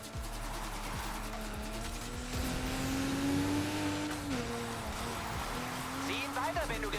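A car drifting in a racing video game, a steady engine drone with rising and sliding tire tone held across the turn, loud and close, with game music and voices faintly underneath.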